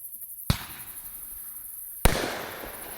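Bright Star Wolf Warrior consumer fireworks cake bursts outdoors, two sharp loud reports with crackling tails over a steady hiss between shots.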